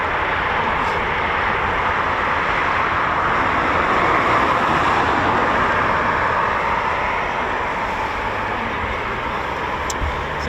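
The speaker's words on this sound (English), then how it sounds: "There's a Typhoon just taxiing back now" Eurofighter Typhoon FGR4 jet taxiing at RAF Coningsby, a steady broadband engine roar holding at moderate distance without pause, with no voices over it.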